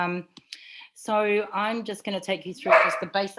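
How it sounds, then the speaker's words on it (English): Dog barking indoors near a black sand beach, a few sharp barks and yips mixed in and around a person talking. "Oh, sorry about the dog."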